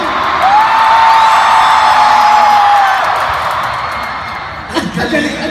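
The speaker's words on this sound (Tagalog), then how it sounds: "Grabe ang sigawan, oh!" A large crowd at the Philippine Arena shouts and cheers in a sustained, loud roar with a long whistle-like whoop riding over it, swelling into a final burst of yelling.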